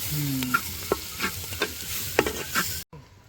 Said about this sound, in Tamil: பூண்டு பேஸ்ட் போட போகிறோம்